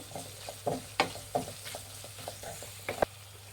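Capsicum with garam masala frying in a pan, a steady sizzle broken by several sharp scraping clicks of a spatula stirring, close and fairly quiet.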